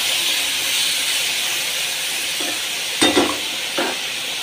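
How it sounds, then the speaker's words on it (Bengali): Potatoes and vegetable stalks simmer in poppy-seed paste water on a cooking fire, giving a steady loud hiss and bubble, broken near the end by a couple of brief stirring clinks. "পোস্ত বাটার জলে আলুগুলো এখন সেদ্ধ হোক।"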